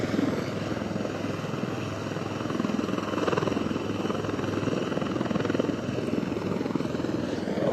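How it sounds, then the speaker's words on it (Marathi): Helicopter landing at a rocky stretch of the Girna River in Malegaon during a rescue of stranded fishermen: a loud, steady rotor and engine roar with a fast rhythmic beat, continuous throughout, with no talk. "त्यामुळे हेलिकॉप्टरचं लँडिंग सध्या क्रुशियल झालं"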